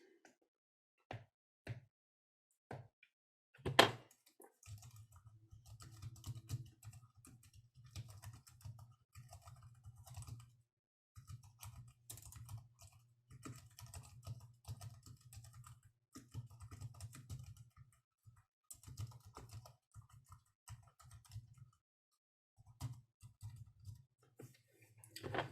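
Typing on a computer keyboard during a physiology lecture: a few isolated key taps, then a long stretch of soft, steady clicking with short pauses, near and quiet.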